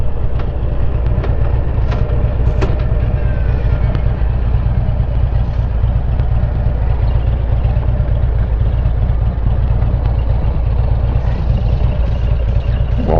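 A motorcycle rolls slowly into a small drive beside a roadside historic marker, its engine a loud, continuous low rumble heard close up, steady throughout with no talking.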